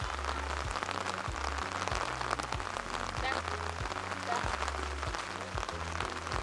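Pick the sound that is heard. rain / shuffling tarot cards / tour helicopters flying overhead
rain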